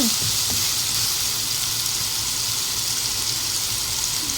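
Ginger fries in a pan with a loud, continuous sizzle and occasional stirring scrapes near the start, close up and steady, with no talk.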